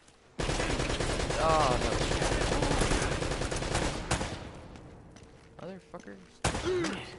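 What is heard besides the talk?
enemy gunfire in video game Uncharted: Drake's Fortune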